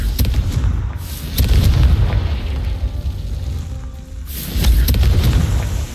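Confringo blasting spell going off in Hogwarts Legacy, two heavy booming bursts with a rumbling low-end tail, the first near the start and the second around the four-second mark, loud and without talk.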